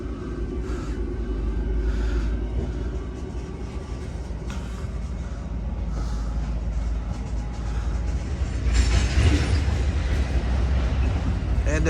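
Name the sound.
Union Pacific freight train departing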